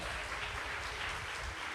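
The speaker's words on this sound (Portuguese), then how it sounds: "Quem pode aplaudir ao Senhor?" Church congregation applauding during a Portuguese-language sermon, a steady dense wash of clapping filling the short stretch at even loudness with no voice over it.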